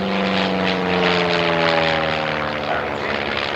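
A largely wooden trainer aeroplane flying at an evening air display, its propeller engine droning loud and close in a continuous pass with slowly shifting pitch.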